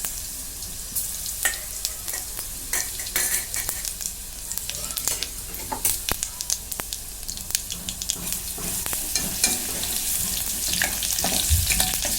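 Cumin seeds dropped into hot oil for a spinach dish crackle and sizzle steadily, with dense popping and spattering close by that carries on throughout.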